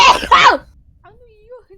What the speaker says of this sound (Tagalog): OA, bumahing ako.